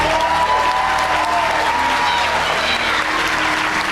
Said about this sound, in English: Let's have another round of applause for all the nominees tonight.